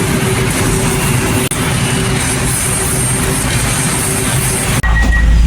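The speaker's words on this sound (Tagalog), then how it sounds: "nasa loob na kami ng LRT" Steady loud rumble and hiss from inside a moving light rail train, with constant rolling noise, a faint high whine and two brief clunks.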